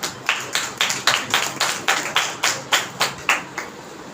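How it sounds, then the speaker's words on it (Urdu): Audience clapping in unison, a regular rhythm of about fourteen sharp, evenly spaced claps. "تالیاں بجائیں گے"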